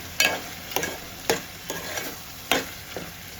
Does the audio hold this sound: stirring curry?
yes